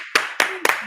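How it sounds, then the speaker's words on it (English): A small group claps in a studio interview setting to welcome a guest's debut. Three sharp, close hand claps come in quick succession, with near silence between them. "Can we get a round of applause for Legend's debut?"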